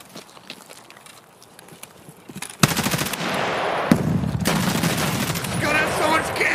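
Automatic gunfire in the game Escape from Tarkov crackles in a dense, rapid burst of shots that starts abruptly after quiet footsteps-like ticks and continues loudly, with a short gap partway through.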